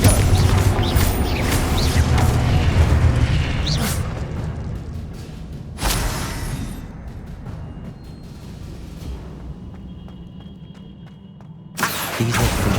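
In the Hogwarts Legacy video game, Confringo spell blasts go off during a combat encounter. The clip is loud, dense rumbling with booming crashes and whooshes, and fresh impacts land at intervals over the sustained noise.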